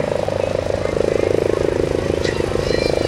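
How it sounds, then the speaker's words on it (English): A Coast Guard HH-65 search-and-rescue helicopter with twin gas turbine engines approaches with its landing gear down at an air show demonstration, its rhythmic rotor chop and turbine whine loud and steady throughout. "Here comes the HH-65, the gear are down."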